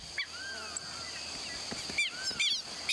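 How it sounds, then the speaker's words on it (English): A lapwing defending its nest in the Brazilian savanna gives a few faint, scattered high warning chirps against a quiet outdoor background. "Warning chirps."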